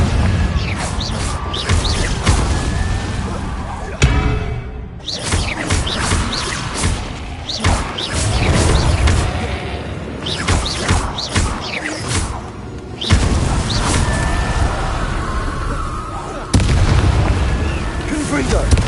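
Confringo fire spell explosions in Hogwarts Legacy, played on PS5: a dense run of loud booming blasts and crackling bursts that follow one after another, with brief drops between them and a voice speaking over the din.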